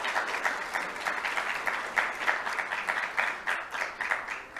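Sustained applause from an audience at a school district board meeting honoring a student award winner, a steady dense wash of clapping with a few louder individual claps, no talk over it.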